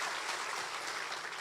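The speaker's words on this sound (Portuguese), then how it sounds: "Vamos aplaudir a Jesus?" A congregation applauding in church, a brief burst of dense, steady clapping filling the room without speech.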